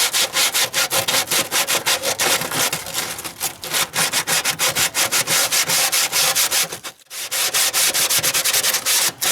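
An attic vent is sanded by hand with sandpaper in fast, loud, rhythmic rasping strokes, close up and continuous, with one brief pause near the end and no voices.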